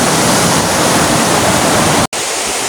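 A strong river current rushes through a forested valley between mountains at Camp Paraiso, Bongabon, Nueva Ecija, a loud, close, unbroken roar of water with a momentary dropout near the end.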